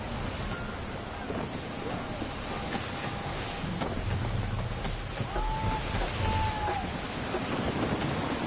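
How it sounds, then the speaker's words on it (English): Gusty wind sweeps across open sea aboard a sailing ship in the video game Assassin's Creed 3, a steady roar of air and surf with waves washing beneath, broad and unbroken throughout. "Gusty winds can be difficult to manage"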